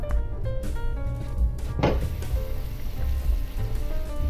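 A single metallic clank as a lid is set onto a pot of chicken sotanghon soup, amid soft sizzling and kitchen clatter.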